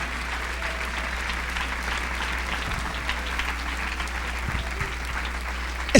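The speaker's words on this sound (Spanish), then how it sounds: "Dele palmas al Rey" A congregation at a church service breaks into sustained applause, a continuous dense patter of many hands over a low steady hum, with no clear voices on top.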